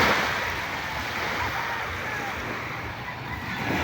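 Sea waves at Lemery, Batangas wash in as a steady, broad rush of surf with wind noise on the microphone, continuous and fairly close, with no voices.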